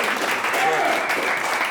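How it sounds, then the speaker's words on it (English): An audience applauds at a talk show taping, a brief burst of steady, dense clapping at moderate volume. "Give a round of applause"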